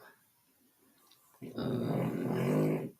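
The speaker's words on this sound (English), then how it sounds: "If you hear anything in the background," A pet dog in the background lets out a low, rough growl lasting about a second and a half after a quiet stretch, close and fairly loud.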